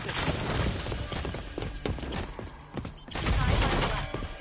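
Rapid gunfire in the online shooter Rogue Company, dense bursts of shots and impacts that run almost without pause, loud and close, with a brief lull near the middle before the firing surges again.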